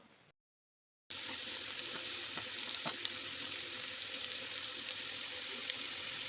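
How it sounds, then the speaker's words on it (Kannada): After a brief pause of near silence, chopped onion with cumin and spices for a North Karnataka-style ivy gourd dry roast breaks into a steady, close sizzle that holds evenly, dotted with faint ticks and pops. "ಈರುಳ್ಳಿ ಕಟ್ ಮಾಡಿರೋದು ಹಾಕೊಂಡಿದ್ದೀನಿ ಇದು ಸ್ವಲ್ಪ ಫ್ರೈ ಆಗಲಿ"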